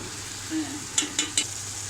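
Yogurt being stirred into biryani in a frying pan: a steady soft sizzle under three quick scraping strokes of a spoon near the end, close and fairly quiet.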